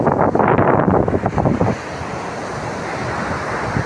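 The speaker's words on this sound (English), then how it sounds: "These waves are trickier than they look like, you know." Ocean surf rolling onto a windy beach, a loud broad wash of breaking waves with gusting wind buffeting the microphone, stronger in the first couple of seconds and then settling into a steady roar.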